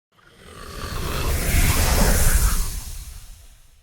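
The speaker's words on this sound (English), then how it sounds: "Dark magic portal opening." A deep, rushing whoosh swells gradually into a dense, rumbling roar, then eases off slightly, like a dark magical portal tearing open.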